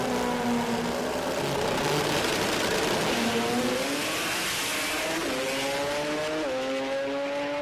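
A race car at a street-performance drag racing event accelerates hard down the track, engine pitch climbing repeatedly and dropping with each quick gear change, loud and continuous throughout.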